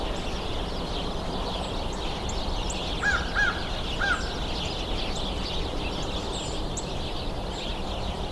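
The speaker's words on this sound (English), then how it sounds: "American crow." An American crow gives a few distant caws during a winter Christmas Bird Count, faint against a constant outdoor background hiss.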